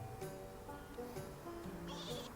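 Sheep bleating in the Thai mobile farming game Small Farm Plus, a few short synthetic bleats over light game background music, fairly quiet with no talk.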